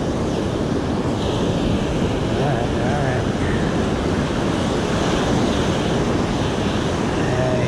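Ocean surf breaks on a beach during surf fishing for surfperch, a constant roar of waves mixed with wind buffeting the microphone, loud and unbroken throughout.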